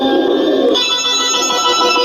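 A home telephone rings with a continuous bright electronic tone for about two seconds, loud and close, with no voices over it.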